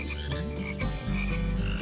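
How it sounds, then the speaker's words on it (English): Frog croaking at night, a steady throaty croak sounding close and continuous for under two seconds over a musical backdrop. "You can hear the froggy singing."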